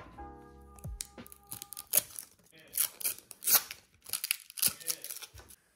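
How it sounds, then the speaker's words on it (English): Packaging for fake AirPods Pro is torn and opened in a series of close, crisp ripping and crinkling bursts. "We're opening up these AirPod Pros."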